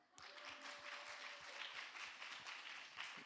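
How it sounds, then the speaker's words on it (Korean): A church congregation at a youth autumn retreat service breaks into warm, sustained applause that starts abruptly and holds steady, dense rapid clapping from many hands filling the room at moderate distance. "박수 한번 칠까요?"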